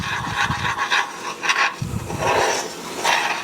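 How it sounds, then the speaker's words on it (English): Homemade caramel sauce thickening in a pan, stirred with a utensil that scrapes and rasps at the corners in steady, close, fairly loud strokes. "Keep a stirring, get it out of your corners."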